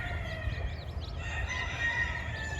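Chickens in a flock, including a hen with nine young chicks, make faint clucks and high peeping calls over a low rumbling background, with no talk.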